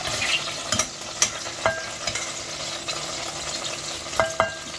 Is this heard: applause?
no